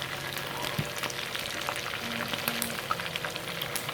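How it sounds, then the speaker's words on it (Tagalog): Chicken neck pieces fry in a pan for adobo, giving a steady, close crackling sizzle scattered with small pops and spits of oil throughout. "piprito ko"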